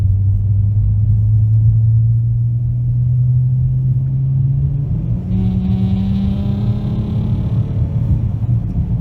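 An AWD Chrysler 300 3.6 V6 with performance exhaust and intake rumbles deep and loud as the engine drones steadily, then climbs in pitch with a throaty growl while accelerating.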